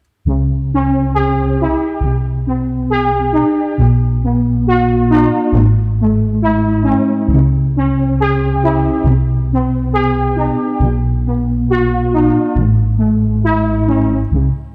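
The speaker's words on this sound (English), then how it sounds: "that was just this coil plucks preset in Ableton that I just tweaked until I liked" Bright plucked synth chords from a tweaked Ableton coil plucks preset ring out in a steady repeating pattern, each chord struck cleanly over a deep sustained bass, with no voices.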